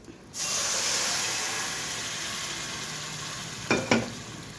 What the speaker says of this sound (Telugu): ఇప్పుడు ఇందులో పప్పు వేసుకుందాం మనం ఉడికించుకున్న పప్పు